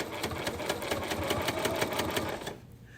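A sewing machine with a walking foot stitches a minky quilt-as-you-go block at a steady, rapid needle rhythm, running continuously then stopping abruptly near the end, with no talking.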